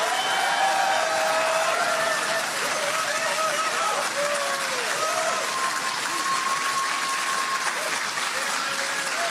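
A crowd at an Iowa Republican political rally gives a standing ovation, sustained applause and cheering heard at a distance with a few shouts rising above the steady clapping.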